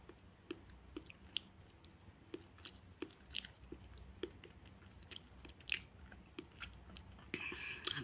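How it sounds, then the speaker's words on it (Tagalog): Soft, close chewing and biting during a breakfast of coffee and bread, with irregular faint crunches and mouth sounds repeating over a quiet room background. "Let's eat guys!"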